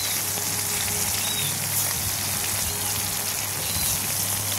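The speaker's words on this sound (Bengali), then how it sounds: "তেল গরম হয়ে গেছে। এবার মাছটা ভেজে নেব।" Pieces of rohu fish fry in hot mustard oil in a kadai with a steady, dense crackling sizzle at close range. The hiss stays even and unbroken throughout, and no one speaks.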